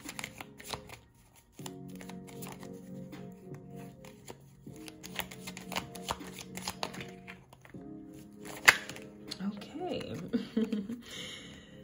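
Tarot or oracle cards are shuffled and drawn, a soft papery riffling that runs on and off under a quiet, close voice that keeps talking, ending with a card slap and some rustling.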